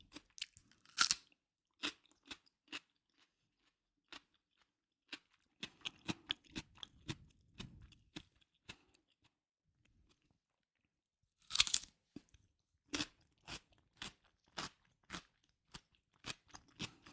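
Crunchy cucumber chewed close to the mic for ASMR, a series of sharp crisp bites followed by softer wet crunching in irregular bursts, separated by quiet pauses, with no talk.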